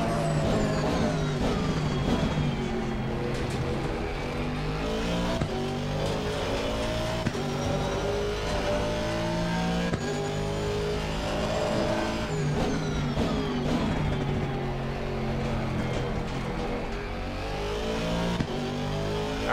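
Aston Martin V8 race car in Assetto Corsa Competizione at Misano, its engine droning loud and continuous with repeated revving climbs and gear shifts, running steadily close up throughout.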